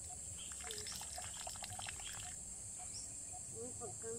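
Spring water flowing in a countryside spot where water spinach grows, a faint continuous trickle with light gurgling and a few drips, insects chirping softly in the background.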